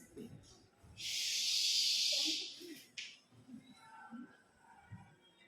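A young storyteller imitates a forked-tongued snake with a loud, sustained breathy hiss lasting about two seconds, followed by a brief breathy tail and soft voice sounds.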